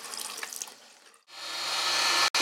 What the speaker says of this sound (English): Let the pump finish running.